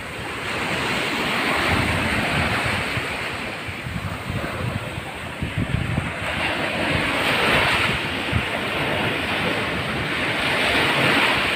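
Flood water rushes in a constant loud roar, mixed with heavy wind buffeting the microphone, with no voices heard.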